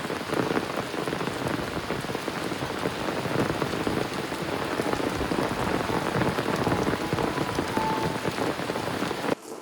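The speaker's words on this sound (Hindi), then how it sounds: "बारिश शुरू हो चुकी है" Heavy rain pours steadily onto surfaces in a dense, constant hiss that runs the whole time before cutting off abruptly.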